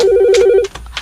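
A telephone rings loudly and close for about half a second, with a steady electronic warbling tone, then cuts off. The ring is followed by short breathy sounds and rustling.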